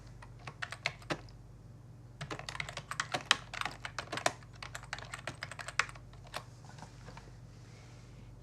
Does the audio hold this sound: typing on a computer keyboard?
yes